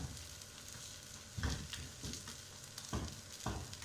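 Semolina barfi mixture cooking in a pan, a soft continuous sizzle broken by several scraping stirs of a spoon through the thick mix, close and fairly quiet with no talking.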